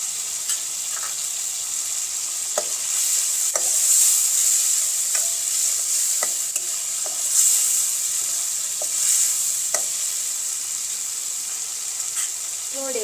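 Corn kernels and garlic cloves sizzle steadily in a pan with red chili powder, turmeric, coriander-cumin and jaggery, a constant hiss broken by occasional light scrapes and stirring clicks.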